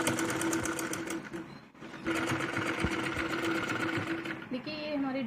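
A sewing machine runs fast and steady as it stitches piping onto white fabric of a jacket (koti), with a brief pause and a change in pace near the end, while a voice talks over it.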